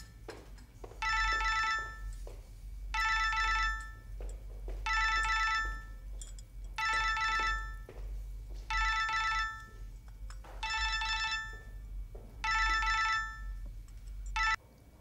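A telephone rings indoors in repeated bursts, seven clear rings with short pauses between them, loud and close over a low steady hum, with no one speaking.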